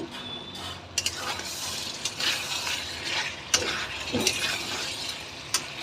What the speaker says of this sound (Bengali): আলুটা দিয়ে আবারও আমি এই তো ভালো করে কষিয়ে নিচ্ছি